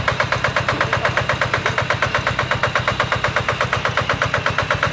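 A Japanese surplus tiller engine drives its rotary blades with a steady, rapid chugging pulse that never lets up. It sounds close and loud, with no voices over it.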